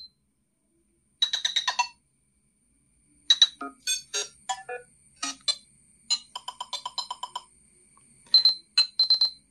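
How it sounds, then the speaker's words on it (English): A string of short Nothing Phone 1 ringtone previews plays one after another, each a bright chiming or trilling melody separated by brief silences. "this is the area which we select the ringtones"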